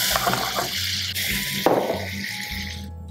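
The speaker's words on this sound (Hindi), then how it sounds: "सबसे पहले पैन के अंदर मैं डाल दूंगा चीनी, थोड़ा सा पानी।" Sugar and a little water are poured into a cooking pan to make caramel. Close, splashy liquid sounds come in several short bursts over a light background hiss, and no one speaks.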